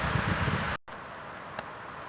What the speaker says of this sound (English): The wind's been quite strong all evening, so I haven't filmed much because of the wind noise.